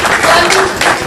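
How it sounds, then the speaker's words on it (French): Audience applause at a press conference in Lyon, a loud dense wash of clapping with a voice speaking over it. "On applaudit"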